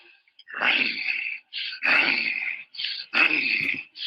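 A person imitates a revving motor with their voice, three strained, buzzing bursts separated by short pauses, close and fairly loud.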